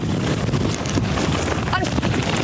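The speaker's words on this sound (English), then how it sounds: "That's the strongest gust we've seen." A strong wind gust sweeps down a street, producing a steady, roaring rush of wind buffeting the microphone for the whole stretch.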